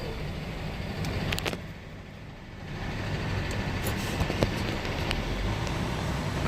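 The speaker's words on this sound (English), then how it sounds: "So now I'm gonna just gas the RPMs a little bit." A semi truck's engine, parked with the brakes set, rumbles loudly and rises into a sustained rev with a broad, rough roar. A brief dip comes midway before the sound climbs again.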